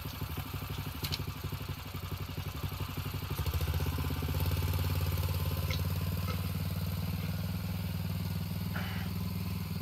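A stock $99 Predator 212cc engine powering a small car runs steadily with a buzzing, clattering idle, then picks up to a slightly louder, higher, constant drone after a few seconds.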